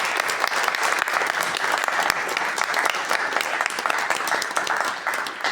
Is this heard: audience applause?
yes